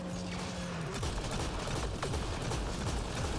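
Flak cannon fire in the video game Mass Effect Andromeda crackles in a dense, rapid volley of bursts, fairly quiet and continuous, with no talk over it.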